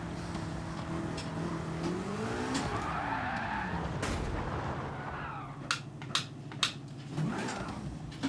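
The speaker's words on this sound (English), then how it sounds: "Still wheel spinning." Rear tyres of an 1100 hp car on sticky racing softs spin and skid in Gran Turismo 7, a rising engine whine with tyre squeal, followed by several sharp popping bangs near the end.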